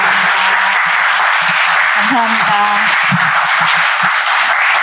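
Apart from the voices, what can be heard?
audience applause for the author at a book talk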